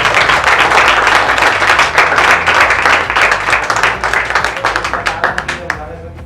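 Loud, close applause at a school science exhibition prize ceremony, dense clapping from a crowd that holds steady and then thins into scattered individual claps as it tapers off.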